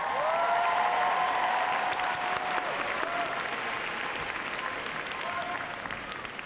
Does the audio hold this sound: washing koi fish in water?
no